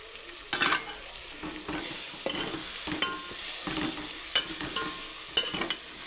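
Ginger, garlic and coriander paste with turmeric and dry spices frying for mutton pulao, a steady close sizzle broken by repeated scraping stirs of a spoon against the pan.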